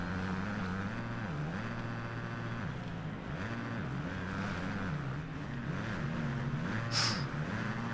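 A motocross bike engine in the MXGP 2020 racing game, an MX2 career race, drones steadily throughout with revs rising and falling through gear changes, loud and continuous with no talk over it.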